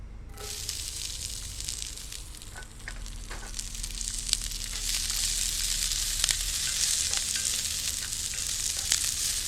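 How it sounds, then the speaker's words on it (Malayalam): Chopped onion sautéing with whole spices in hot oil for a navratna korma, a dense, bright crackling sizzle that builds steadily louder, with occasional stirring scrapes and no talking. "ഈ ഉള്ളി ചെറുതായിട്ടൊന്ന് വഴറ്റിയെടുക്കണം"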